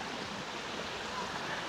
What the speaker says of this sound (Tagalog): Isang simpleng ilog lang din.